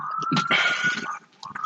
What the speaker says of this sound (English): that's the ambulance